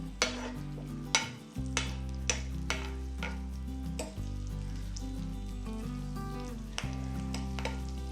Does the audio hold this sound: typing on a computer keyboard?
no